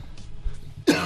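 A single sharp cough bursts out near the end, close and loud after a quiet pause.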